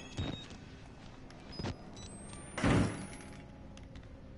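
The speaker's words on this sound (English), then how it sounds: "This door needs a key." Inside a video game, a locked door gives a few short knocks and rattles, then one louder, longer rattling clatter, close by and spaced apart in quiet surroundings.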